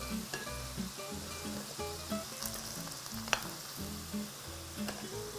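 Homemade fries cut from garden-grown potatoes sizzle steadily in hot oil, a continuous frying hiss with low rumbling bubbles and one sharp clink partway through, with music playing faintly underneath and no talking.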